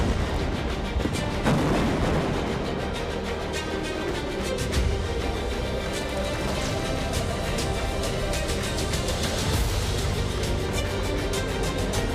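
Explosion in footage from the Israel-Iran war, a dense sustained roar of blasts and rumbling debris with repeated sharp bursts over about twelve seconds, loud and continuous with no talk.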